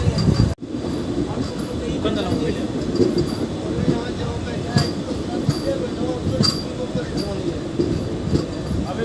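A MEMU passenger train rumbles and clatters steadily nearby, with occasional metallic clinks and a sharp knock near the start, under faint background voices.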